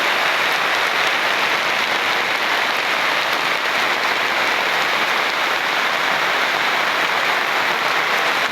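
Steady, heavy rain pours down continuously, a dense hiss of drops hitting surfaces with no breaks.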